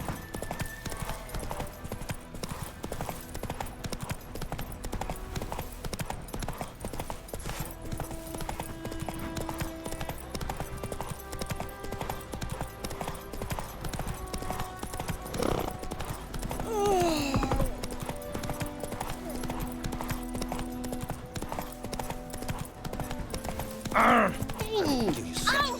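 Roach, the horse in The Witcher 3 video game, trots with a steady, continuous clip-clop of hooves under game music, and brief snorts and whinnies rise now and then.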